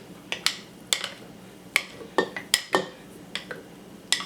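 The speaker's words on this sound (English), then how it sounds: "mix it together with the water and the flour" A utensil stirs flour and water for sourdough starter in a bowl, producing a string of irregular clinks and scrapes against the container, close and fairly quiet, with no talking.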